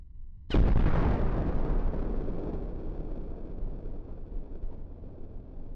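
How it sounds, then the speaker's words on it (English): A sniper rifle shot fired toward a sniper tower in Arma 3 cracks out sharply after a brief quiet moment, then rolls into a long, booming echo that fades slowly over several seconds. "Let's put a shot into that sniper tower"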